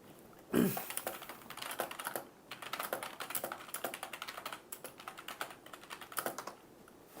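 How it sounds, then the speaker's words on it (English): Fingers tap quickly on a computer keyboard during a PUBG esports league stream, producing a soft, continuous patter of keystrokes close by with brief pauses. "I'm typing in the chat right now."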